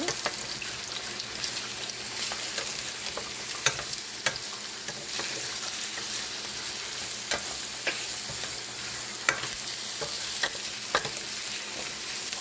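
Low-carb dishes, a sweet and sour chicken soup and braised drumsticks, simmer in a home kitchen with a faint, continuous bubbling and occasional clicks and knocks of stirring, steady and fairly quiet throughout.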